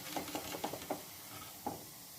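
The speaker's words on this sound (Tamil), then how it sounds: "ஆயிலில் போட்டு எல்லாமே ஃப்ரை பண்ணி எடுத்துருங்க." Frying flour, water and sugar snack dough in hot oil, a soft sizzle with a few quick clinks and stirs close by, faint and without talking.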